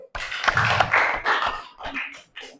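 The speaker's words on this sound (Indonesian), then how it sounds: "Ya, tepuk tangan dulu." Classroom audience applauding at the end of a group presentation, a short burst of clapping close by with voices mixed in before it fades.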